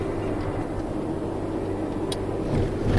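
A car driving along a road, heard from inside the cabin as a steady low engine and road rumble with constant tire noise, fairly loud and unbroken, with no one talking.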